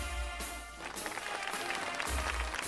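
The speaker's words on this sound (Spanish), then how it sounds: "Aplausos para estos valerosos soldados." A crowd claps for soldiers at a street military parade. The applause is a short, busy burst of overlapping claps at moderate distance.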